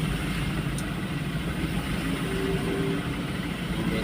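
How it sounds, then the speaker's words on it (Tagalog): Cars idle in a street traffic jam near a crossing with a stoplight, a low steady engine hum and rumble heard from nearby, faint and continuous, with no talking. "Sana all traffic dito."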